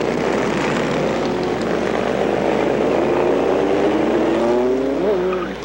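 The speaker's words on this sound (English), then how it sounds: "Over 300 motorcycles cranked up and began curling out of the Midland Mall parking lot." A dense, steady roar of over 300 motorcycles starting and riding out of a mall parking lot together, loud and sustained, with a rising whine near the end as one pulls away.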